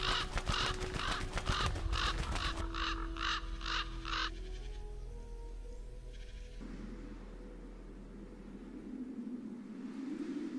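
Ravens in a forest give a series of harsh, rhythmic croaking calls, about seven in a row, then fall silent. A steady low droning hum runs beneath them, and there is no talk.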